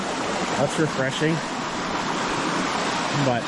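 A summer mountain creek runs steadily with a broad, even rush of water close by, while a person speaks briefly over it.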